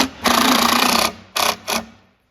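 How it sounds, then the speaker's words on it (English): An impact driver sinks screws into a wooden nightstand, giving one long, dense rattling burst and then two short bursts, close and loud with no talking. "that impact driver"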